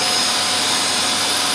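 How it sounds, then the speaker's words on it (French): An air compressor runs loud and close in a home workshop as an air valve is opened, giving a dense, steady, broadband roar with a constant hum and no pauses or voices. "on va ouvrir la vanne d'air et on va entendre le compresseur démarrer"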